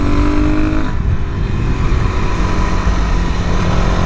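A Suzuki DRZ400SM motorcycle with an air box modification rides along curvy roads, its engine a steady, close drone that drops in pitch early on and carries on over wind rush, with no talk.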